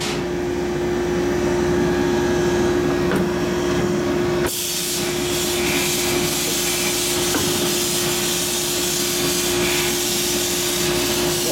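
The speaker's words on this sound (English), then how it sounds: "Got air comes in through here, and it sucks the beads in there with it." A sand bead blaster in a workshop runs continuously with a loud steady roar, hum and hiss as air draws fine bead media up the hose, the hiss brightening midway as the flow changes.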